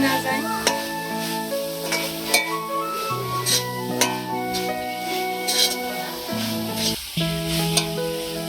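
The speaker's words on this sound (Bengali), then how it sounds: "খুব নাড়তে হবে, নিচে যাতে লেগে না যায়।" Coconut sandesh mixture is stirred in a pan, soft sizzling and repeated scraping strokes under prominent background music.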